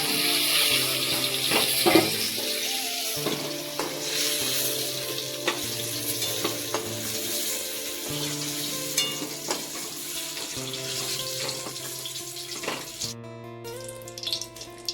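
Vegetables for a bottle gourd stem curry frying in a pan, a steady close sizzle with occasional stirring scrapes and no voices, continuing throughout.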